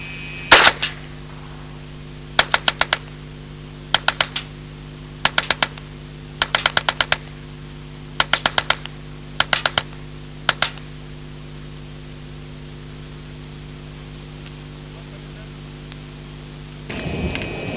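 Short bursts of automatic fire from a 1977 Alan Halla experimental low-recoil submachine gun, serial AH3377, loaded with Federal 123-grain ammunition, ring out in about eight sharp, evenly spaced volleys over steady background hiss, followed by a faint rustle.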